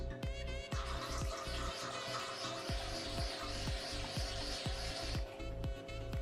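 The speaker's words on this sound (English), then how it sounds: "on this one you can just put the glass underneath and just pour yourself a glass" Wine poured from a bottle through an aerator into a glass gives a steady rushing, hissing stream for about four and a half seconds, with a faint rhythmic low clicking underneath.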